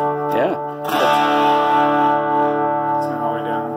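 Two strummed chords on a Daisy Rock acoustic guitar with a heavy distortion effect ring out loud and sustained, fading slightly before another faint strum.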